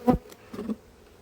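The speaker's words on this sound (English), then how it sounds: "nearly got that wasp" A wasp buzzes around a beehive at an outdoor apiary, passing close in brief humming bursts that swell and fade, with no talk over it.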